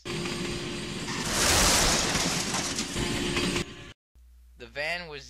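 A diesel train speeds along the tracks with a loud roaring rumble and rail clatter that swells and then cuts off abruptly, followed by a brief spoken voice.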